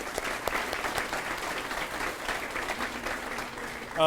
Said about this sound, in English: let's give Hayden Peel a round of applause